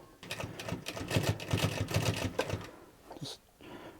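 A Zoje ZJ0303L heavy duty industrial walking-foot sewing machine stitches in a rapid, loud mechanical chatter of needle strokes for about three seconds, then slows and stops with a couple of closing clunks.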